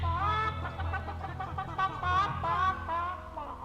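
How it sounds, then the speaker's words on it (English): Chickens cluck and cackle continuously, close and loud, their squawking calls rising and falling over several seconds with no talking. "The hens all cackle when Rojo's around"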